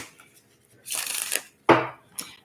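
Two quick riffles of playing cards being shuffled, close and crisp, separated by a brief pause, with a light tap after.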